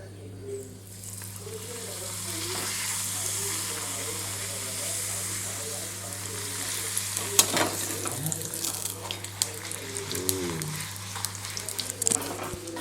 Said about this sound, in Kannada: ಪೂರಿ ತಂದದ್ದು ಎಣ್ಣೆ ರೆಡಿಯಾಗಿದೆ. ಇದನ್ನು ಹಾಕುವ